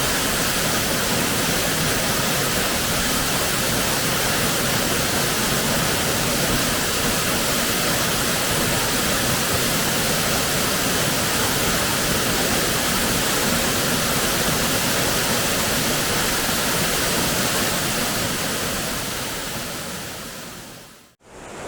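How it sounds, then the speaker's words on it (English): Crabtree Falls waterfall in Virginia roars as a steady, loud broadband wash of falling water with no voices, cutting off abruptly near the end. "I'm a big fan of waterfalls, generally."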